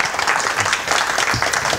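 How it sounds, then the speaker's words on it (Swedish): An audience at a Swedish research breakfast gives a loud, dense round of applause for Lars Hultman, many hands clapping continuously and close by. "Stora applåd."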